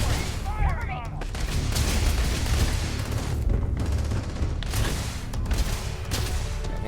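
Dense, continuous gunfire and rumbling combat in Starfield, a loud unbroken wash of shots with no clear gaps, and a voice briefly audible near the start.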